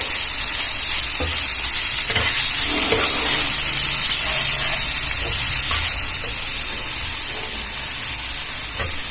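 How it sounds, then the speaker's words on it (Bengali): A spice paste with coriander powder fries in a pan, giving a constant close sizzling hiss with scattered scrapes and knocks of stirring throughout. "এবারে এটা নাড়াচাড়া করে খুব ভালো করে ভেজে নেব।"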